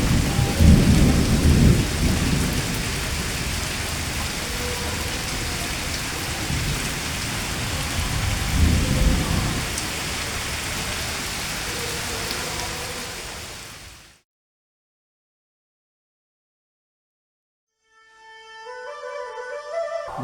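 Torrential rain pours down loudly with deep rolling thunder swelling twice, the roar holding steady before cutting to silence, then a different sound fades back in near the end.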